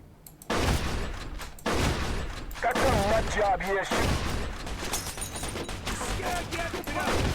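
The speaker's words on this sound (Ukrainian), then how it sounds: "Та годі по мені стріляти" Bursts of gunfire in the Mafia 2 video game, dense volleys of shots over several seconds, loud and close, with a voice speaking in between.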